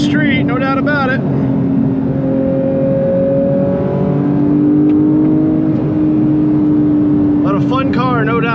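A 2022 Porsche 911 GT3 Touring (992) engine revs and accelerates loudly, a steady rising drone with gear changes, with brief bursts of a voice at the start and end.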